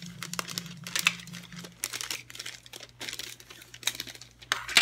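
Gift wrapping paper is folded and creased for Christmas presents, giving close, irregular crinkling and rustling bursts that come and go with brief pauses between handlings.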